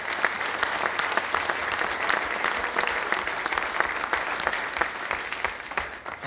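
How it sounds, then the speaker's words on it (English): Audience at the Class of 2017 induction ceremony gives a final round of applause for the inductees, a loud, sustained sheet of clapping with a few sharper individual claps that continues steadily throughout. "one final round of applause for all of the inductees tonight here in 2017"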